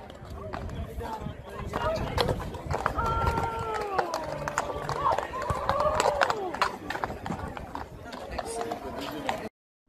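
Mounted police horses clip-clop on pavement in a steady run of hoof strikes, with a tonal whinny-like call in the middle, all heard beneath people talking and crowd noise before the sound cuts off abruptly.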